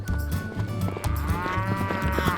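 Cows lowing on rural farmland in the Fall River Valley, several loud, close moos with harmonic, drawn-out calls overlapping one another, with no voices.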